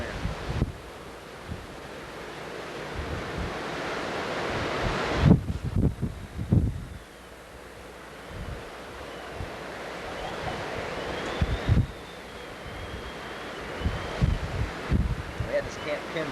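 Typhoon wind at Camp Kinzer buffeting the microphone in strong roaring gusts that swell and fade, with someone speaking over the noise.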